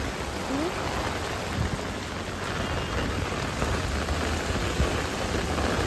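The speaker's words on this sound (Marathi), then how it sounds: "आडवा तिडवा कसा पण पाऊस पडतोय." Heavy monsoon rain in Mumbai pours steadily in a dense, even hiss, loud and close, with no voices.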